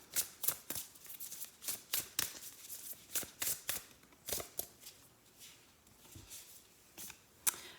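Astrology cards shuffled close by in a quiet room, a run of crisp riffling bursts in an uneven rhythm with brief pauses between them, alone with no talk.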